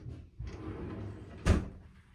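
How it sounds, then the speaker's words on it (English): A kitchen cabinet drawer without a soft-close damper slides shut, ending in one sharp wooden knock after a low rumbling glide, close and fairly quiet. "Here is a drawer with no damper."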